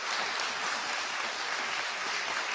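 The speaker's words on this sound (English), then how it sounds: "I can't believe they clapped that up." Steady, dense applause from an Oxford Union debate audience fills the whole stretch at an even, moderate level, with no voices on top.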